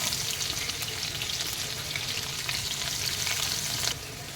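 Garlic frying in hot oil with whole dried red chillies for a pumpkin sabzi, giving a steady, close, continuous sizzle that drops slightly in level near the end.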